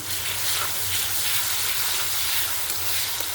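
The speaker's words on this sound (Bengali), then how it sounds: "তো রসুন বাটা দিচ্ছি।" Garlic paste sizzles steadily in hot oil with chopped onions, a dense, even frying hiss close by with no voices.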